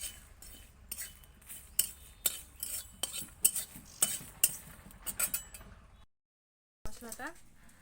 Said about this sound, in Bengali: এবার এই শুকনো লঙ্কা আর কালো জিরেটা একটু খালি কড়াইতে একটু নেড়ে চেড়ে ভেজে নেবো অল্প একটু।